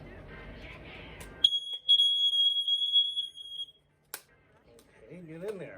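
A First Alert SA130S smoke alarm gives one loud, piercing, steady electronic tone for about two seconds, followed by a short click, with faint voice-like sounds before and after.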